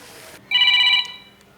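A phone ringing tone sounds once in a short, warbling burst, fairly loud and close, then cuts off into quiet.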